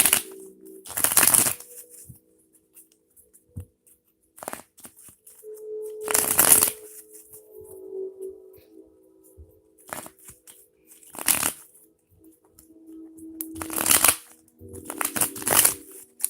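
A deck of tarot cards shuffled by hand in repeated riffling bursts, each a crisp papery flutter lasting about a second and separated by quieter pauses, close and clear with no talking.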